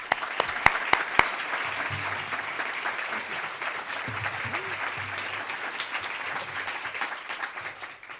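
Audience at the City Club of Cleveland applauding to welcome author Kristin Ohlson, steady dense clapping throughout with a few sharp individual claps near the start.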